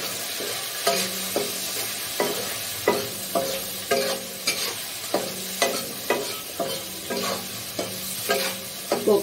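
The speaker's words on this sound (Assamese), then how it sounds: "মাছৰ তেলত ভাজি আছোঁ" Turmeric-seasoned vegetables sizzle in fish oil as a spatula stirs them, each scraping stroke landing in a steady rhythm of roughly one or two per second over continuous frying, close and clear with no talking.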